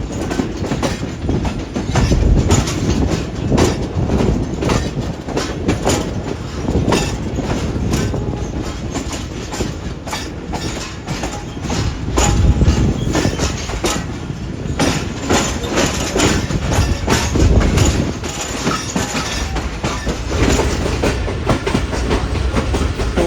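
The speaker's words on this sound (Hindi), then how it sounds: "कानपुर जंक्शन रेलवे स्टेशन से हमारी ट्रेन निकल रही है" Pakistan Railways train pulling out of Kanpur Junction, loud rolling rumble with rhythmic clickety-clack of wheels over rail joints and occasional squeals, heard close from inside the carriage.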